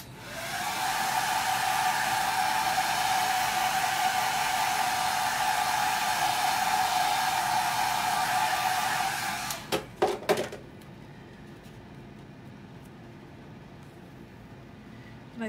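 Handheld hair dryer blowing on a chalk-painted craft piece, a loud steady whoosh and whine running for about nine seconds, then a few clicks as it switches off, leaving quiet room noise.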